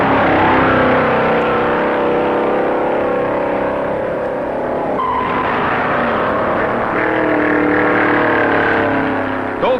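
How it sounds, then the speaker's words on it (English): 1957 stock cars, among them a Pontiac, race on the sand at Daytona Beach, a loud continuous engine roar with rising and falling revs as cars pass close by. "Owens' Pontiac responds to his touch and is keeping up the pressure on the front runner"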